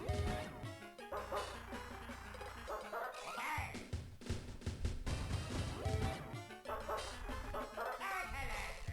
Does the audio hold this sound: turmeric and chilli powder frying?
no